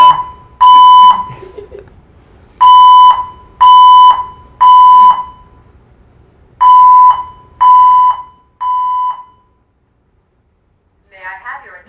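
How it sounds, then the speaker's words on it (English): Building fire alarm sounding loud and close, a series of long, evenly spaced piercing tones with short gaps between, the last one weaker, followed by a faint voice. "There has been a fire alarm reported in the building."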